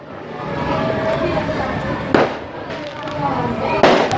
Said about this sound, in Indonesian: ya biarkan ada mercon ini